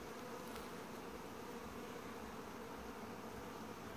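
Honeybees forage on flowering buckwheat in autumn, a quiet continuous buzzing drone of many insects nearby with no voices.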